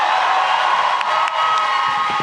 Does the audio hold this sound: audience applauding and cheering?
yes